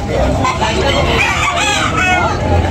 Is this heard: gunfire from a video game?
no